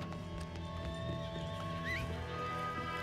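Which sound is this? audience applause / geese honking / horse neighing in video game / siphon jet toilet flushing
horse neighing in video game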